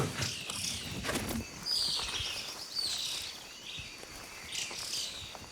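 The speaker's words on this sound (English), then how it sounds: "I can hear some ant birds." Antbirds call near an army ant swarm along a forest road in Panama: sharp, high whistled notes and chirps come in bursts at moderate distance over a busy insect and forest background.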